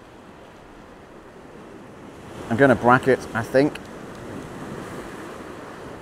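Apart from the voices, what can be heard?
ocean waves breaking on rocks by a headland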